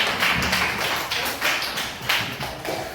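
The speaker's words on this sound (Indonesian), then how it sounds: "Oke, tepuk tangan untuk kelompok 2." A class clapping for a student group during a classroom presentation: brisk, slightly rhythmic bursts of hand claps from many people, fairly close and moderately loud.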